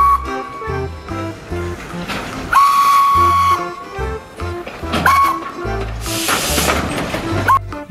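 A toy Thomas train gives several short high steam-whistle toots amid clattering toy noises and bright children's-song music, fairly loud and close.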